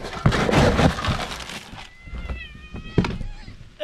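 Hungry cats on an off-grid homestead meow at feeding time, a few short close cries following a loud crunching clatter of dry food being poured, with a brief thump near the end.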